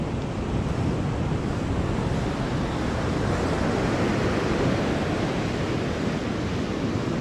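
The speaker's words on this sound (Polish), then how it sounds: "Fale olbrzymie." Large ocean waves breaking on the shore at Kata Noi beach in Phuket, Thailand, a loud continuous roar of surf mixed with wind buffeting the microphone, with no voices.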